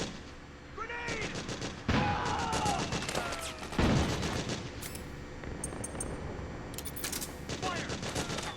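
Gunfire in Metal Gear Solid 4, rapid bursts of shots rattling in clusters amid shouted voices and chaotic battle noise, loud and close.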